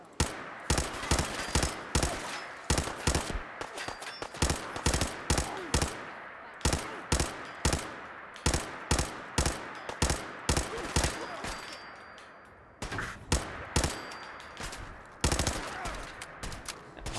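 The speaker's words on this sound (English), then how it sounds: "There's actually someone behind me shooting me from somewhere" An enemy fires on the player in Fallout 4, giving dense rapid gunfire: sharp repeated shots in quick runs with brief pauses, loud and close, with no talk over it.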